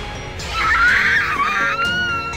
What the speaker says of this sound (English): That scream is crazy good.